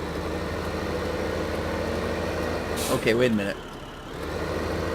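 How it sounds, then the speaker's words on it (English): A tracked tractor fitted with beacons idles in modded Farming Simulator 2015, a steady low engine drone running throughout, briefly masked by a voice partway through before the rumble carries on. "Oh, you gotta love this tractor."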